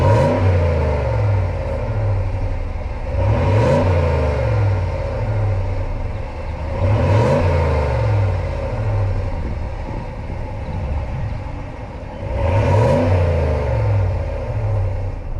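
A 2023 Ram truck's 5.7-liter Hemi V8 engine revving, loud and close, with a deep throaty rumble that swells in several repeated rev surges over a steady idle.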